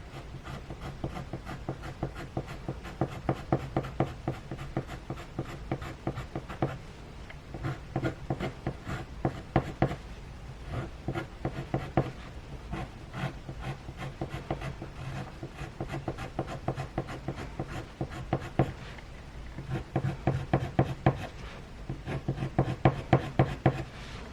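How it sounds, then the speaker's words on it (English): Coloured pencil shading on paper under quite hard pressure with the pencil being turned, a continuous series of quick, dry scratching strokes in steady rhythm, close and fairly quiet throughout. "Turning my pencil, trying to keep it as sharp as I can without keep sharpening it."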